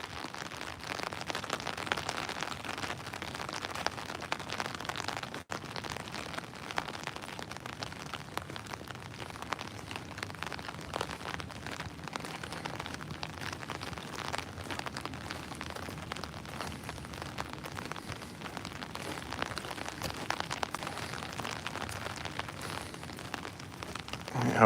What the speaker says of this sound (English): I'm going to keep quiet for like 30 seconds and let you enjoy the sound of rain.